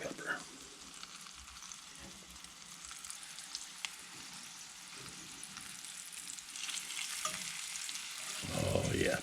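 Garden flowers fry in a pan with a continuous soft sizzle and crackle, with a few sharper pops scattered through and the frying growing louder near the end.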